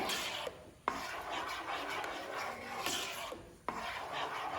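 Papaya halwa stirred in a pan on the stove, a continuous scraping, rasping rub of a spoon against the pan bottom with a few sharp knocks, close and fairly quiet.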